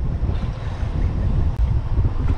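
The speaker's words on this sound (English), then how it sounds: "That right there is a gust of about 25, 30." Strong wind gusts of about 25 to 30 buffet a bay boat camping out in the Everglades, a loud, continuous roar of wind noise with steady low rumble for the whole stretch and no voices.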